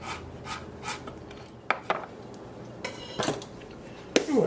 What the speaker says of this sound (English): And then mince your ginger.